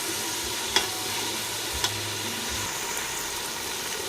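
Ginger garlic paste frying in a pot for chicken biryani: a loud, steady sizzle close up, with two brief soft knocks from the stirring spoon.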